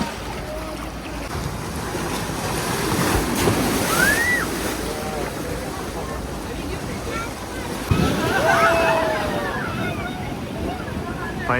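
Sea waves wash against the rocky shore at Gangeshwar Mahadev temple, two louder surges swelling and breaking around four and eight seconds over steady wind and water noise, with faint voices in the background.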